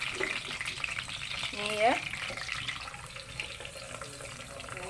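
Blended spice paste poured into a hot pot of oil with curry leaves for fish head curry, giving a loud wet splatter and sizzle that swells briefly near the middle, over steady frying hiss, with a brief spoken word.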